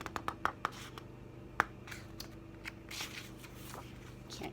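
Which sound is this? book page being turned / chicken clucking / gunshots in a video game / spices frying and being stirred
book page being turned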